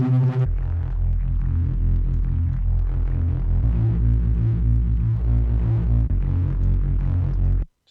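A bass line is played in Reaper through a phaser effect at 100% wet, a deep droning bass with sweeping, swirling notches that rise and fall in slow cycles before stopping abruptly.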